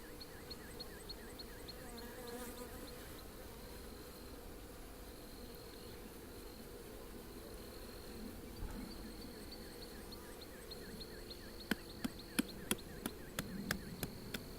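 Honey bees in an open beehive being dusted with powdered sugar to fight hive beetles make a steady, close insect drone, with a few sharp clicks near the end.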